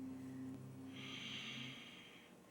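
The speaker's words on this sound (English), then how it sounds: "the guttural sound, that breath that I'm doing is called Ujjayi or victorious breathing" Ujjayi yoga breathing, a slow guttural breath with a hissing, ocean-like rasp from a constricted throat, heard alone and close up, swelling and fading over a couple of seconds.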